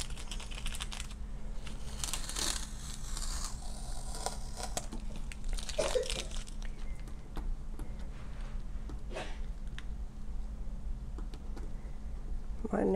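Foil is peeled slowly back off an acrylic sign, giving close, irregular crinkles and soft tacky ticks that come and go in bursts over a low background hum.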